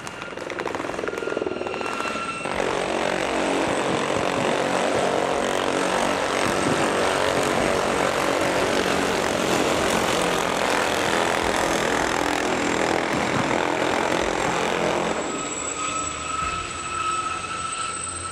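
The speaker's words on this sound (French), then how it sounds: "l'hélicoptère Gazelle, qui va vous survoler d'une minute à l'autre" A Gazelle military helicopter roars past, its rotor thudding and whining as it grows loud overhead, holds, then fades away.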